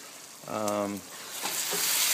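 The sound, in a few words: pork simmering in pot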